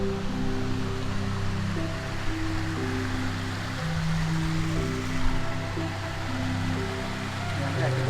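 At the top of a waterfall in West Sumbawa, water rushes in a steady, broad roar while a low droning tone runs beneath it.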